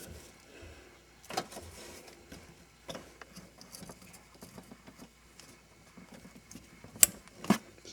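An electrical connector snaps into place on the air suspension compressor of a 2003 Mercury Grand Marquis, a couple of crisp plastic clicks near the end after faint fumbling and handling noises.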